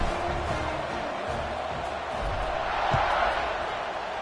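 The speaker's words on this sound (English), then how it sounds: "this crowd is buzzing after that last score" A college football stadium crowd at Virginia Tech vs Liberty keeps up a dense, continuous roar and murmur after a touchdown, loud and broad with no break.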